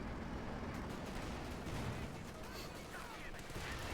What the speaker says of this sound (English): Sherman engages the Panzer IV, gets a nice penetrating hit there on Angreifen's Panzerkampfwagen, which then bounces